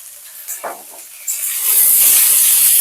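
Chopped ridge gourd stirs in a hot pan with turmeric and salt, a few scraping strokes first, then a loud, close, steady sizzle swells and holds to the end.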